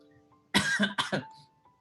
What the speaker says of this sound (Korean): 이상한 말 하니까 갑자기 기침 나오네요